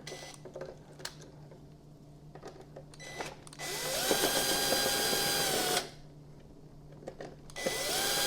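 A power screwdriver backs Torx 20 screws out of a Jura coffee machine, whirring in short bursts followed by a longer sustained run, with clicks and handling noises between; close and fairly loud, no talking.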